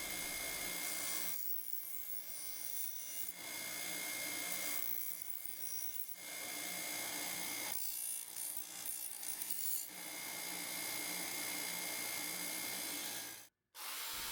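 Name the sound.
grinding a knife edge flat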